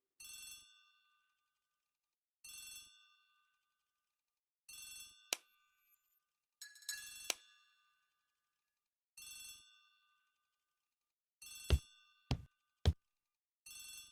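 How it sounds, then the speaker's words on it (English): A hallway telephone bell rings in evenly spaced bursts, about seven rings with silences between, joined near the end by a few sharp knocks or clicks; no one speaks. "The telephone in the hall is ringing."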